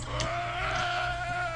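A sheep bleats in a Roblox elevator game: one long, steady, wavering bleat held for over a second, loud and alone with no talk over it.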